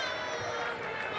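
A basketball arena crowd at a Kansas versus Oklahoma State women's game makes a continuous, faint roar and murmur during a free throw, heard at a distance for a brief stretch.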